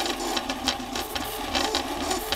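A cheap $150 Taobao knock-off 3D printer printing at 200 mm/sec makes a close, continuous whirring buzz with quick rhythmic pulses from the rapidly moving print head.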